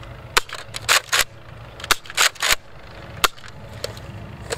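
Nerf Elite Retaliator blaster shooting foam darts, sharp pops heard up close, a few single shots and quick pairs with short pauses between them, and no talk.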